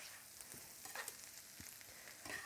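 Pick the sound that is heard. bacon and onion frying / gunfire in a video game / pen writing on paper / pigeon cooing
bacon and onion frying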